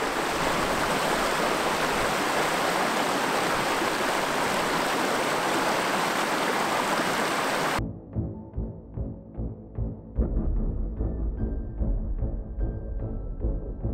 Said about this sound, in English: the river tightened up to become more bony with a quicker current